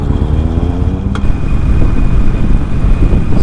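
A Harley-Davidson Superlow 883 motorcycle engine rumbles steadily and loudly up close, a rough, low, continuous throb with no talking.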